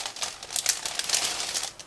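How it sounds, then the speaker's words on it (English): A plastic bag holding figurine parts from a 1/35 scale model kit crinkles and rustles steadily as it is handled up close, with sharp crackling bursts and no talking. "We are going to start with first plastic bag, which was dedicated to figurine parts"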